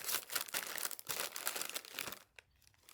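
A bag of Doritos jalapeno popper chips crinkles and rustles close up in a burst of rapid crackling plastic, easing off toward the end.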